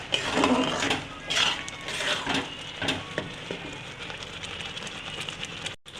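Khesari dal chachchari seasoned with chilli powder is stirred as its water cooks off, with soft scraping strokes and a low, steady simmering hiss, fairly quiet and close.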